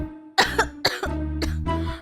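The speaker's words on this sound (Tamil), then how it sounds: "உனக்கு இருமல் ரொம்ப அதிகமா இருக்கும் போல இருக்கே." Several harsh, close coughs from a person with a bad cough burst out in quick succession, each a rough broadband hack, with a strained voiced tone held between them.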